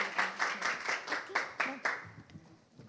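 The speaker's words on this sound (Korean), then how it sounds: "여러분, 강애나 매니저님 큰 박수로 부탁드립니다" Brief burst of audience clapping for a presenter at a conference, a steady patter of hands that quickly fades, with a voice speaking underneath.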